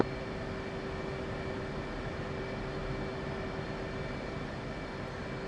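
A jet flying at 40,000 feet at close to Mach 2 in the DCS flight simulator gives a steady, unbroken cockpit drone with a faint constant whine, even and continuous throughout.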